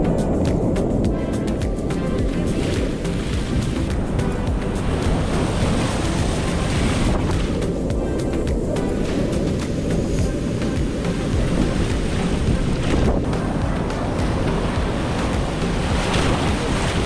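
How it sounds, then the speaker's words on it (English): Waves crash continuously over the rocks at Champagne Pools on Fraser Island, a loud, unbroken roar of surf with gusts of wind buffeting the microphone throughout. "with the waves crashing over, and the bubbles were definitely nice"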